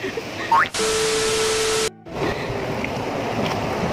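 Loud rushing water from a river rapids amusement ride, a dense broadband roar swelling in from mid-clip and continuing close by, with a short dip before the churning resumes.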